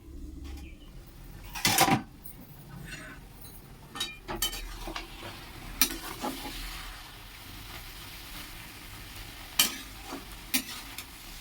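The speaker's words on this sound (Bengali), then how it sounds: "ভালো করে মিশিয়ে নিচ্ছে মুলো মাছ" Dried fish and radish stirred and fried in a pan aboard a boat, with a soft steady sizzle broken by sharp scraping and clinking strokes of the spatula at irregular intervals.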